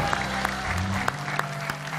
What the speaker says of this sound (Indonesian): Kalau tepuk tangan buat Wendy.